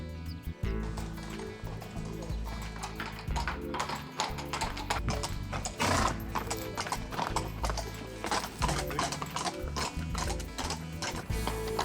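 Giara horse hooves clip-clop in a brisk, irregular patter on hard ground, with a narrating voice talking over the steady clatter throughout.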